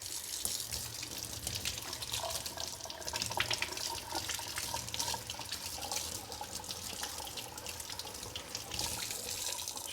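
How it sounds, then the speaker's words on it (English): Tap water runs steadily into a kitchen sink, splashing over plant roots held in a strainer as they are rinsed clean, a continuous hissing wash with no voices. "I've got the strainer in my sink, just rinse off these roots."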